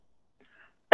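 A person gives a single short cough on request, sharp and close at the very end after near silence.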